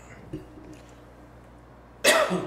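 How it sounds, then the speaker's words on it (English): A single loud, harsh cough bursts out near the end after a quiet stretch with a faint earlier knock. "You'd think this whiskey'd cure this cough."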